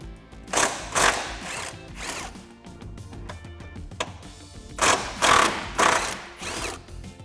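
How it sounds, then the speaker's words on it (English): A 13mm socket ratchet backs bolts out of a support brace on a 2016-2023 Camaro SS, giving several loud bursts of fast clicking separated by short pauses, close to the microphone with no talking. "So now we'll take a 13mm socket to get these out."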